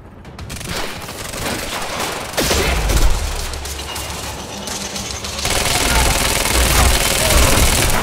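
Heavy-recoil gunfire in the action game Quantum Break, loud rapid bursts and booming shots that build into sustained, dense firing toward the end, with a voice speaking briefly over the battle.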